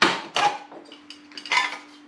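Metal parts of a camping stove and its matching cooking pot are pulled apart and handled, giving a few loud clinks and clatters close up, with a steady faint hum underneath between the knocks.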